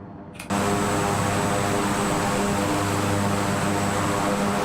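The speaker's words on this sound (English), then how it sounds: "That is a loud airplane." A Beechcraft King Air propeller plane in Flight Simulator 2020 drones loudly and steadily at 1500 RPM and 66% power, a constant engine roar that cuts in abruptly after a brief quieter moment.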